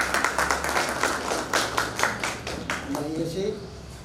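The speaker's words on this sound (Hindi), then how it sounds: "तालियां बजा दीजिए" Rhythmic, fairly close clapping from an audience at a book launch ceremony, an even beat of claps that thins out near the end as a voice begins.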